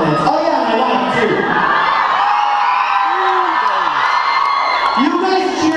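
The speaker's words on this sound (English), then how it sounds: "You guys cheered louder for her." A large crowd cheers, whoops and screams loudly and continuously at a stage show during a vlogger fair, with shrill voices rising over the roar.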